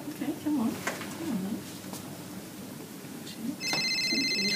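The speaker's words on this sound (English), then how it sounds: "Oh, phone call." A telephone rings indoors in a home setting, a short electronic trill heard near the end, sounding over a steady background hum with faint bird-like cooing earlier.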